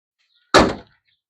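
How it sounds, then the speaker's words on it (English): A truck door, on a lifted truck being fixed up, shuts with a single solid, heavy thunk that rings off fast, loud and close, with near silence before and after. "love the way that door shuts."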